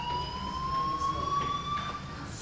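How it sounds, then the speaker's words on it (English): In the video game Life Is Strange, a fire alarm rings as a steady, faint electronic tone that holds without a break, with no talking over it. "Do you hear that fire alarm?"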